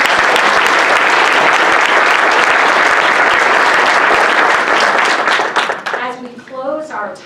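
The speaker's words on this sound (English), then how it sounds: "big round of applause for both our moderator and our panelists" Loud, sustained audience applause for a summit moderator and panelists, thick and even for several seconds before tapering off as a voice begins speaking at the end.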